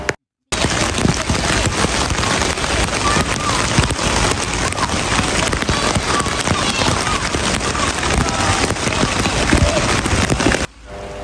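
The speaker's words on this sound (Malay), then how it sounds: "Waktu ni hujan turun dengan sangat lebat. Tempias air hujan masuk ke dalam kemah" Heavy rain pounds a camping tent in a nature setting, a dense, loud, continuous hiss and patter of drops that starts abruptly and carries on steadily for about ten seconds before cutting off.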